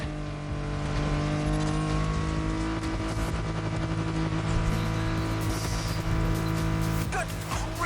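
Car racing downhill at full speed in The Crew Motorfest, its engine droning steadily and loud throughout with a sustained tonal roar and faint tire noise.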